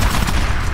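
Continuous automated turret gunfire in the Titanfall video game, a loud rapid barrage of overlapping shots with no break, heard up close in a battle against IMC forces near a harvester.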